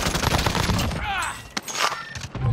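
Rapid automatic gunfire in the Call of Duty video game on Rebirth Island, dense bursts of shots filling the clip with a brief lull in the middle, mixed with game sounds and faint voices.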